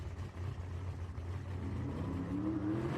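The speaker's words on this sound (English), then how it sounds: "Enjoy the burnouts." A drag race car does a burnout at a drag racing event. The engine roars loud and close, its pitch climbing steadily toward the end.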